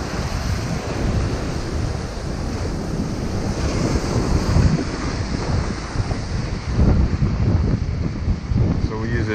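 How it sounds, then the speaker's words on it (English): Strong wind gusts buffet the microphone by the sea while fishing, with steady surf and waves washing underneath; loud and continuous throughout, with no talking. "Bit windy."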